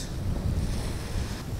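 Strong wind buffets the microphone on a fishing boat at sea off the Cayman Islands in a constant low roar, with a broad rushing wash like open water and surf.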